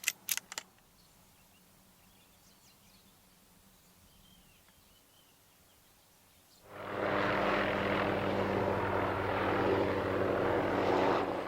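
A helicopter dropping rabbit poison roars in suddenly partway through, its loud, steady engine and rotor noise continuing to the end after a quiet stretch.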